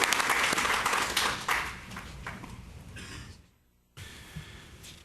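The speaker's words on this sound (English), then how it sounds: "So if everyone would recognize Wallace with a round of applause." Applause from a board meeting audience, dense clapping that starts loud, gradually thins and fades to near silence, then a brief softer burst of clapping resumes.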